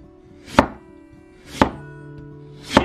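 Knife cutting through a raw potato on a cutting board, three separate crisp chops spaced about a second apart, close and clear with no talking.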